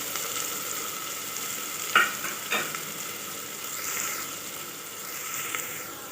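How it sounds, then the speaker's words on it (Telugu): Green chillies frying in hot oil in a pressure cooker on the stove, a soft steady sizzle with a couple of brief sharper spits and pops, close and fairly quiet, no voices. "ఆయిల్ కాగిన తర్వాత పచ్చిమిర్చి వేసుకోవాలి"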